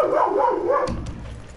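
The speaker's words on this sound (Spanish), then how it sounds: "eso que se escucha de fondo es mi puñetero perro" A pet dog barks and yips in the background of a home room, with a whining, wavering cry first and then a lower bark, all heard close and fairly loud.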